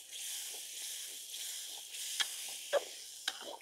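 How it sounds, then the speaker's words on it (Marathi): Gravy masala simmering in oil on a wood-fired village stove, a faint soft sizzle and hiss running throughout with a few brief sharper crackles and pops near the end. "जोपर्यंत ग्रेव्हीला चांगलं तेल सुटत नाही तोपर्यंत ग्रेव्ही आपण अशीच चुल्यावर शिजवून घेऊ"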